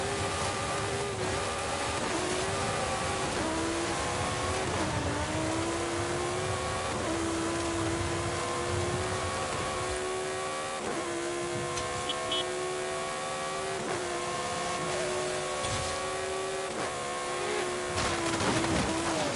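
Engine drone and tire noise from a car driving on gravel in Forza Horizon 5, a steady continuous hum with shifting revs, fairly quiet and mixed with background game sound.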